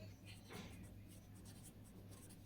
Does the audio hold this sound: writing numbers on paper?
yes